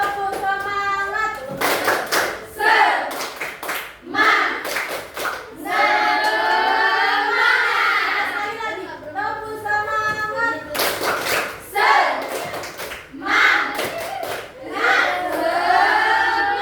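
Children in an evening classroom lesson about the forest ecosystem perform a rhythmic spirit clap: bursts of loud, patterned group clapping with excited shouts and chanting between them.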